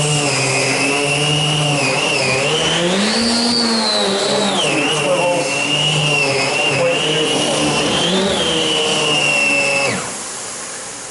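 MD central vacuum with an EBK360 power head cleaning carpet, a loud, steady motor whine with a rotating brush hum that shifts pitch as it moves, then drops off near the end.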